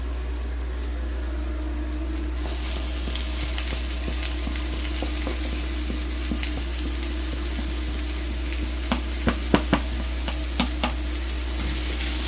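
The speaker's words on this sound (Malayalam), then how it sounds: "അപ്പോഴത്തേക്കും നമുക്ക് അരിഞ്ഞു വെച്ചേക്കുന്ന പാവയ്ക്ക ഇട്ട് കൊടുക്കാം." Chopped bitter gourd goes into a pan of frying onions, bringing a steady sizzle that swells partway through, with sharper stirring clicks and scrapes near the end, over a low hum and with no speech.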